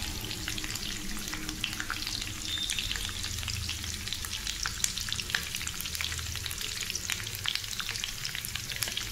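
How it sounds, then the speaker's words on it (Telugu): Dried fish frying in hot oil, a steady dense crackling sizzle that carries on unbroken and fairly close, with no voices over it. "నూనెలో ఫ్రై చేసుకోవాలండి"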